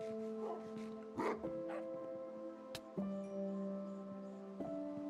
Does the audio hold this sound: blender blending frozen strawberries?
no